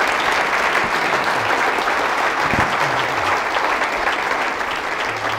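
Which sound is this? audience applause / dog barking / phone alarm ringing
audience applause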